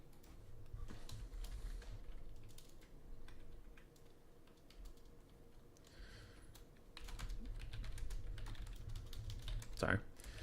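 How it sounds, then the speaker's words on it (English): Quiet, rapid typing on a computer keyboard runs in irregular bursts across a faint background hum, with a single louder click near the end. "Sorry. Typing out a thing."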